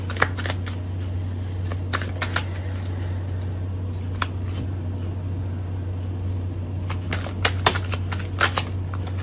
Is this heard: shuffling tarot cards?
yes